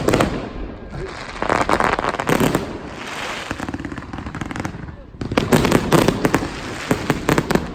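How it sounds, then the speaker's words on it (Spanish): Fireworks burst at a night festival in Cusco, dense crackling volleys and rapid bangs coming in loud waves with a short lull, amid crowd noise and live music. "Una combinación de fuegos artificiales y música en vivo hacen de esta noche la más divertida del mes jubilar."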